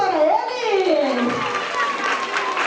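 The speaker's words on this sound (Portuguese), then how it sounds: "Palmas para ele!" Children and adults at a school literature festival clap and shout excitedly as a costumed Saci Pererê character appears, steady clapping blended with high, lively kids' voices throughout.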